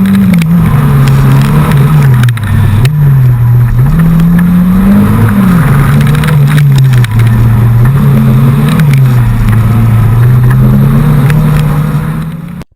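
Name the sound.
car driving a timed event run on a slippery course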